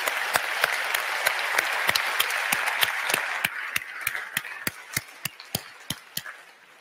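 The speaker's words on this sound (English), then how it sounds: "Can you give my panelists a big round of applause?" An audience at a Brussels launch event applauds the panelists, a dense round of clapping that thins out halfway through into a few scattered, sharp claps before fading.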